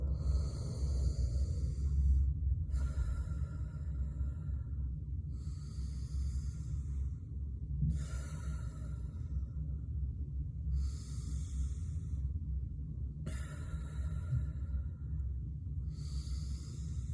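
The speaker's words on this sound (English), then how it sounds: "We're just taking slow, deep breaths." Slow, deep breathing during a calming exercise, long airy inhales and exhales repeating at an even, unhurried pace, close to the listener over a steady low rumble.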